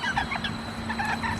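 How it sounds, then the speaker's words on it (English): Fully grown bantam chickens in a backyard garden cluck softly in a run of short, repeated calls, close by and unaccompanied by talk. "these are the chickens. These are bantams."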